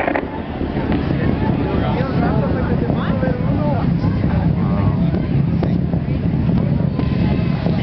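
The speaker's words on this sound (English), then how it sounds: "Discovery's engines are now throttled back up and performing in full capability." Space Shuttle Discovery's main engines during launch: a heavy, continuous roar with rumbling low-end and wind-like buffeting, loud and steady throughout, carrying faint warbling tones over it.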